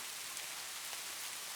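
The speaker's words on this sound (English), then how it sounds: "The only consistent sound is rain" Steady, soft rainfall hisses continuously, even and unbroken, with no voices.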